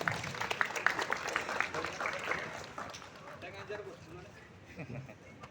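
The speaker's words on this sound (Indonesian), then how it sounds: "Kita beri tepuk tangan." An audience at a law society discussion gives scattered clapping that starts fairly lively and then fades to a sparse patter, with some voices murmuring underneath.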